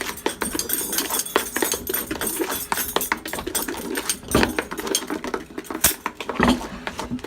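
A utensil stirs chocolate chip cookie dough in a bowl, producing rapid, irregular clinks and scrapes close by, with no speech.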